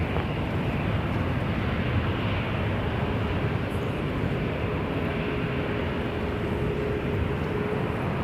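An Air Canada Boeing 737 takes off at Toronto Pearson Airport, a steady broadband jet roar held at constant loudness throughout, distant and unbroken.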